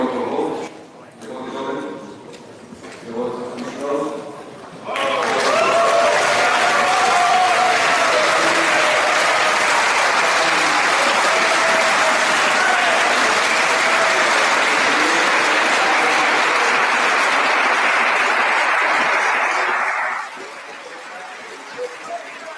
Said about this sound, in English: I'm going to show you a crowd cheering.